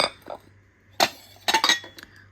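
Small white ceramic plates clinking against each other as they are handled, several sharp bright knocks and clatters in quick clusters, close by, with a faint background hum.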